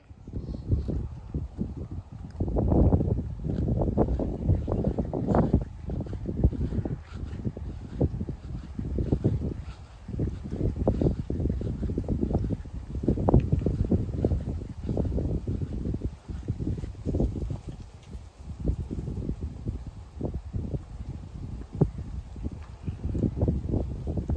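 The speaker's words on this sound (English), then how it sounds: "It's a bit windy." Strong gusty wind buffeting the microphone in uneven rumbling bursts, loud and continuous with no voices.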